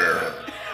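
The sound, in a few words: a person burping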